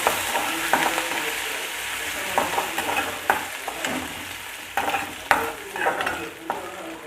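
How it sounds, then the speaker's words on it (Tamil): Green chilies and dried red chilies crackle and fry in hot oil as a tempering for ven pongal, a close, busy sizzle punctuated by repeated sharp stirring scrapes and pops. "இப்போ எல்லாத்தையும் நல்லா தாளிச்சுக்கிடுவோம்."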